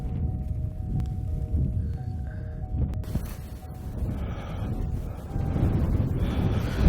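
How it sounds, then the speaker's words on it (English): Gusty mountain wind buffets the microphone in a low, continuous rumble that swells and eases, growing stronger toward the end, with no voices. "this wind's kind of been all over today, which is pretty typical in the mountains"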